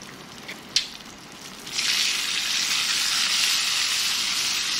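Fish frying in a pan in a home kitchen in the early morning: a short clatter as more fish goes in, then a loud, steady hiss of sizzling oil that keeps going to the end, with no talk.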